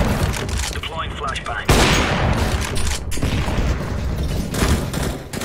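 Gunfire in Counter-Strike: Global Offensive on the Mirage map, with a loud burst of rapid shots and sharp cracks followed by scattered firing and background game noise, with a voice partly over it.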